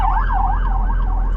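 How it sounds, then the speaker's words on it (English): A wailing ambulance siren sweeps up and down repeatedly, loud and continuous over a low engine rumble, heard from a car on the road. "Here comes the ambulance."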